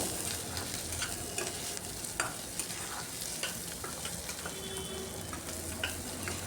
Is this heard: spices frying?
yes